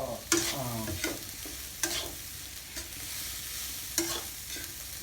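Fried rice with canned fish and soy sauce is stir-fried in a pan, with a steady sizzle and scraping stirs striking about every one to two seconds, close and alone.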